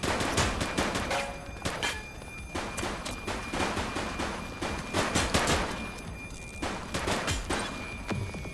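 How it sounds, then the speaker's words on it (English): Rapid bursts of gunfire from a shootout in the police video game The Precinct, loud and dense with repeated volleys and sharp cracks over several seconds, without speech. "He's shooting!"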